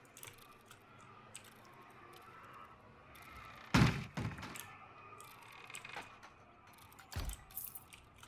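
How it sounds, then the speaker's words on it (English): Trapdoor banging in Planet Coaster, a few loud hollow thuds standing out over quiet background clatter, with a sharp bang in the middle and another near the end. "I wish that trapdoor would quit banging and making noise."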